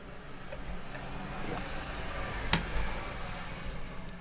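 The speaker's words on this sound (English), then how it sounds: "Sorry about the traffic noise." Road traffic passes outside as a low, steady rumble of vehicles in the background, with faint, distant swells and a few soft knocks nearby. There is no talking.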